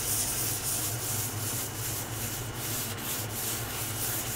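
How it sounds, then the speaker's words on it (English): 220 grit sandpaper rubs across cured Stone Coat art resin in a steady, continuous hiss with faint rhythmic strokes, close and fairly quiet. "it's not real dusty when you're sanding"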